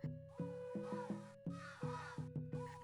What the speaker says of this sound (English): The crow is easily distinguishable from all the others, especially given we literally just saw one fly by.